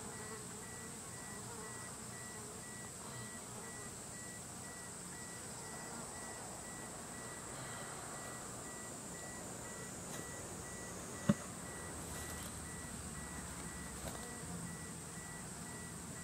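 Japanese cerana honeybees buzz steadily at their hive, a continuous close, even drone from bees fanning at the entrance, with one sharp click partway through.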